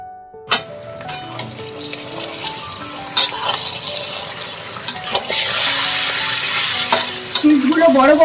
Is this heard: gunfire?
no